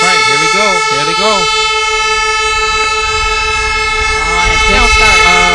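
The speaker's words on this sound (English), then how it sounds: "And then the air horn." An air horn blasts a long, steady tone to start an offshore waterjet racing event. It sounds loud and sustained for several seconds while announcers talk over it.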